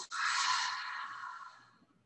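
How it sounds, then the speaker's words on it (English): A long, soft open-mouth exhale in Ujjayi pranayama breathing, a breathy hiss meant to fog a mirror, starting abruptly and fading gradually over about two seconds, quiet and close with no talking. "as you exhale to fog up the mirror"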